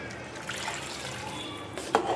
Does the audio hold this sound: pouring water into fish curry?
yes